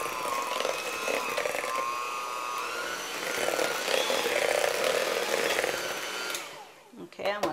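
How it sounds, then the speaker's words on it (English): A blender whirs loudly as it mixes mini chocolate cheesecake filling with apricot brandy, a steady high motor drone with shifting pitch for several seconds before cutting off near the end, followed by brief sounds of people talking. "So we're going to blend this."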